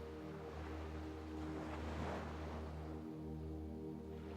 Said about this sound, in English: on the beach, they melt behind the sound of the waves